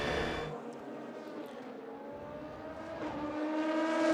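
LMGT3 and LMP3 race cars in the 4 Hours of Le Castellet endurance race pass one after another, engine whine swelling and fading as each goes by, moderately distant.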